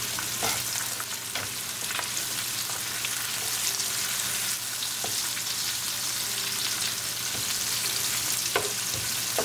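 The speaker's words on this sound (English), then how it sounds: "We're going to saute our onion until they get translucent." Chopped onion and cumin seeds fry in hot oil for a vegetable rice pilaf. A constant crackling sizzle runs under scattered sharp clicks of a spoon stirring the pan.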